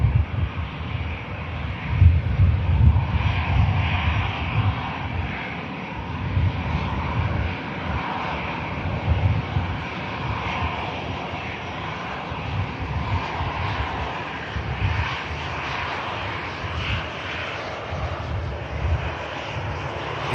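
An EasyJet jet airliner taxiing at Manchester Airport, a steady broad engine roar that swells slightly early on, distant and continuous, with some wind buffeting the microphone and no talking.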